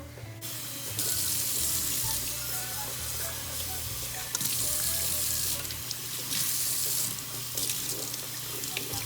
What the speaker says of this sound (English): you have to pour it nice and slow so that the bubble will not go up fast.